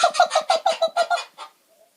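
Farm chickens clucking in a quick run of about nine close, clipped calls over roughly a second and a half, then stopping into near silence.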